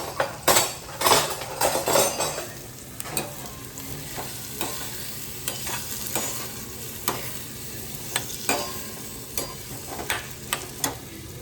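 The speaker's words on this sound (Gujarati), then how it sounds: "જમવાનું થોડીક વાર સ્ટોપ રાખ્યું ને હું સંભારો વઘારું છું." Raw mango relish is stirred in a pan as it is tempered, with a metal spoon scraping and clinking against the pan over a steady sizzle of frying, louder at the start and lighter later.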